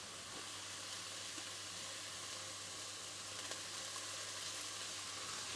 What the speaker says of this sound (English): we're just going to fry this up to soften those carrots a little bit, and the broccoli leaves, and the cabbage